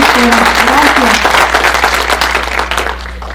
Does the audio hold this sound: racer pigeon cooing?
no